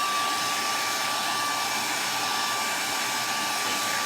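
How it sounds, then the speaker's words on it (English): Blow dryer aimed at a craft project, a steady loud whoosh of air with a faint constant whine that runs unbroken from start to finish, with no voices. "So I'm going to hit with the blow dryer a little bit."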